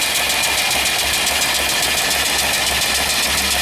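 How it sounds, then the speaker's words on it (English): A small steam engine turning slowly at around 200–250 RPM while driving an alternator by a pulley, giving a steady mechanical chugging and hiss with a faint regular pulse, close by and with no voices. "That's the engine spinning about 250 RPM, maybe 200 RPM"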